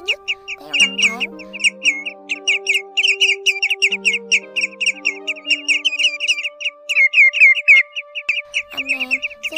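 Migrating shorebirds, whimbrel, sandpipers, greenshank and grey-headed calls, ring out in a dense, continuous run of high whistled chirps, with a few lower tonal calls beneath, close and fairly loud throughout.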